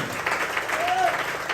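Church congregation applauding at a preaching service, steady broadband clapping throughout with a voice pitched over it, moderately loud and close.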